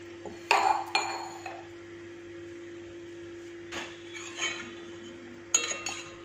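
A spoon clinks against a steel tumbler and dishes as a little milk is scooped out for saffron: several bright metallic taps and scrapes, close and fairly loud, over a steady electrical hum.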